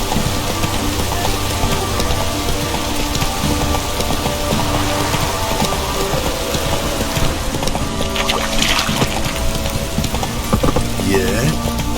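Steady, dense rain patters throughout in The Witcher 3: Wild Hunt, a continuous loud wash of drops with game sounds mixed in and a voice talking over it.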